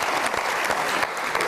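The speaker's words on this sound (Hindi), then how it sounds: "बहुत सारी तालियां एक बार दिलदार परवेज भट्टी साहब के लिए" Studio audience applause on a comedy talk show, a dense, steady burst of many hands clapping together, loud and continuous throughout.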